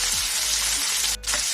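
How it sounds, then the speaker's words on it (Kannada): Chopped onions fry in a pan for palak pappu, Andhra-style spinach dal, with a steady, dense sizzle throughout and a faint stir near the end. "ಸ್ವಲ್ಪ ನೀರುಳ್ಳಿ ಕಟ್ ಮಾಡಿ ಇಟ್ಟಿದ್ದೇನೆ, ಅದನ್ನು ಹಾಕ್ತಿದ್ದೇನೆ. ಇವಾಗ ನೋಡಿ ಸ್ವಲ್ಪ ಈ ಥರ ರೋಸ್ಟ್ ಮಾಡೋಣ."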